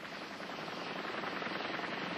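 Helicopter rotor noise in a Vietnam War era military setting, a steady, muffled whirring rumble with no speech.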